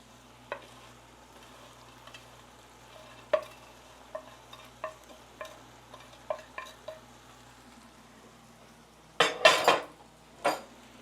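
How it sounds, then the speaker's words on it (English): Potatoes are mixed into shrimp Clemenceau in a pan: quiet sizzling under a string of sharp utensil clinks and taps against the pan, then a burst of louder scraping and stirring near the end. "I'm going to mix in the potatoes with the rest of this"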